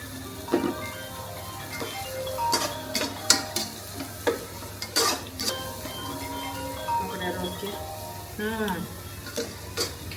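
Ghee heating and sizzling in a pan for biryani, a steady frying hiss punctuated by sharp clinks and scrapes of a utensil stirring against the pan.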